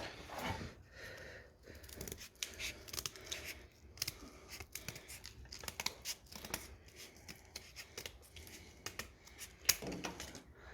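Snips cut through old tub sheet metal on a Suzuki SJ410, giving a rapid, irregular series of close, sharp clipping crunches with brief gaps.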